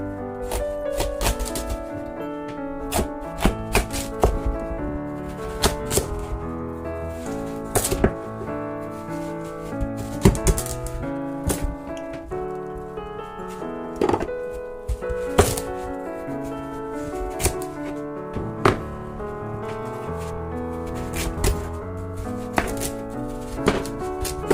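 A knife cuts through a yellow watermelon on a board, giving a long series of crisp chopping knocks at an uneven rhythm, close and clear with no talking.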